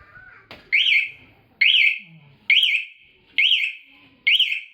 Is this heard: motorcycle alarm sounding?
yes